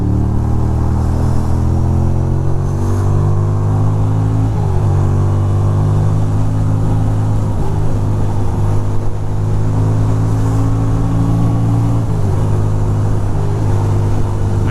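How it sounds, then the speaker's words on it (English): Engine drone and low rumble from a car stuck in a traffic jam, with surrounding vehicles idling and creeping; the steady noise is loud and close, with small pitch shifts as engines rev slightly, and no talking. "Looks like we got traffic left, right, and everywhere."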